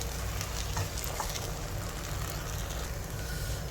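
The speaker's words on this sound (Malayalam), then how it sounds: "കൈവിടാതെ ഇളക്കി കൊടുക്കണം." Banana halwa being stirred in a pan as it cooks, giving a steady, continuous scraping and bubbling rustle at moderate level with a low hum underneath and no talking.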